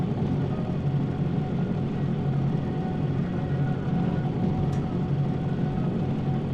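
A locomotive in Derail Valley uses its engine brake on a downhill, giving a loud, steady, droning rumble that holds without a break.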